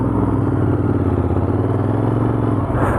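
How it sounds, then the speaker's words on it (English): A Royal Enfield Continental GT 650 with its standard exhaust rumbles steadily up close while riding, a loud, even, grunty parallel-twin drone that holds for the whole stretch. "It's got a nice grunt, even with that standard exhaust."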